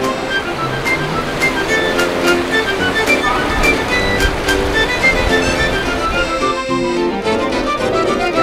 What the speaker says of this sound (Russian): Удивительно просто течение этой реки